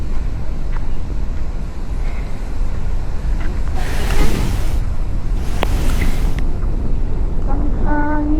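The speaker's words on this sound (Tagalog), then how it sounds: "Ang hangin." Strong wind blows constantly across the microphone on the shore of Timbayan Island in Balabac, Palawan, with a loud rushing roar and surf-like wash, broken by a few brief hissing gusts and small bumps.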